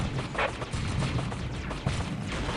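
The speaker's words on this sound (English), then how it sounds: "throwing down a melter bomb" Melter bombs in a video game go off in a dense battle mix, with repeated thumping blasts and crashes layered over constant gunfire and combat noise, loud and continuous without pause.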